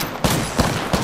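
Video game gunfire in quick succession, three loud close bursts of shots within about a second.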